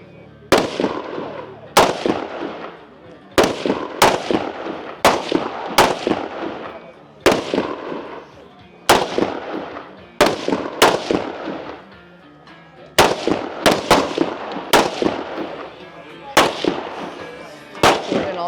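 Biathlon rifle shots ring out at the firing line during an elite women's race stage in Poland, a series of sharp, loud cracks spaced a second or two apart in irregular clusters, with commentary talking over them.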